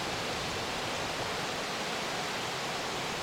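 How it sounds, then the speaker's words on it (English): Water flows gently at a mountain pool in Maskeliya tea country, a soft, even hiss of running water that stays faint and constant throughout. "Sound of the water,"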